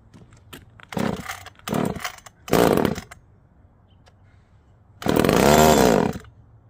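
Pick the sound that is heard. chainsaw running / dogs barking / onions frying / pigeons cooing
chainsaw running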